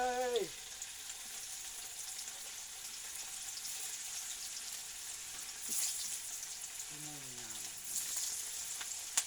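Food fries in hot oil with a steady, soft sizzle close by, swelling slightly at moments, while brief tonal squeaks from the background come and go.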